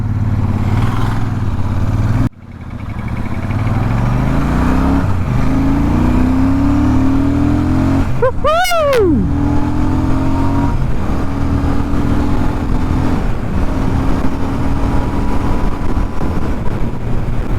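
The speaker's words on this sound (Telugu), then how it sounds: "సౌండ్ ఏమన్నా వస్తుందా ఎగ్జాస్ట్ నోట్?" A new Royal Enfield 650cc twin's exhaust drones loudly and close as the revs climb in smooth, rising sweeps. A brief high whine cuts across midway, and no one speaks.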